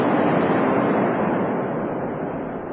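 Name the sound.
large explosion in a city during war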